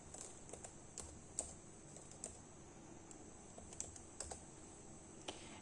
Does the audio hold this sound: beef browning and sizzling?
no